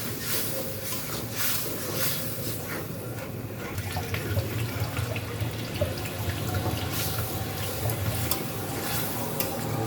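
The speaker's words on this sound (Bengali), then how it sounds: "এখন দিয়ে দেবো জল, আর এই জলটা হচ্ছে নারকেলের জল।" Coconut water poured into a pan of coconut frying with salt, giving a steady running, sizzling wash of liquid that holds for the whole stretch at close range, with no talk.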